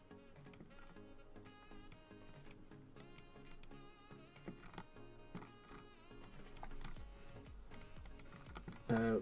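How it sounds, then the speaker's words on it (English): Computer keyboard keys are pressed in a quick, irregular clatter of sharp clicks, up close and fairly quiet, with a louder burst near the end. "Can you stop stepping on my keyboard?"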